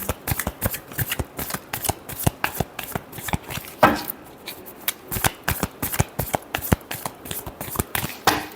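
Tarot cards shuffled by hand in a steady run of crisp, rapid riffling slaps and flutters, close and fairly loud, with one brief heavier flurry midway and no talking.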